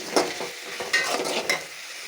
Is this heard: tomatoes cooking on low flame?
yes